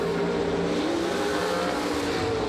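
A pair of Max Performance drag racing cars roars down the strip at an ACE event, a loud, continuous engine howl that rises in pitch as they accelerate, filling the whole stretch with no clear speech.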